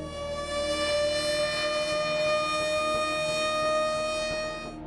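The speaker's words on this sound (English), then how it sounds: "We have sirens scattered across our cities" A civil defense siren wails in one long sustained rich tone, loud and steady, swelling slightly and fading toward the end, with no voices.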